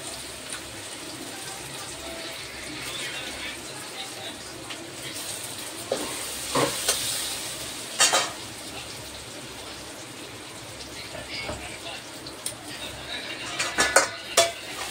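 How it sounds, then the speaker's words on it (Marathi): Boiled potato garlic balls are stirred gently in a pan, with soft scraping and occasional sharp clinks of utensil against metal, over a faint background sizzle. "एकदम हलक्या हाताने हलवून घेऊया."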